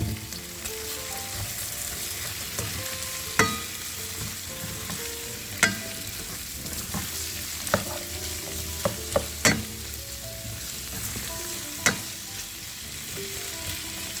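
Sweet peppers of different colors sizzle with chicken in a hot, smoking wok or pan, a continuous close frying hiss punctuated by sharp clanks and scrapes of stirring.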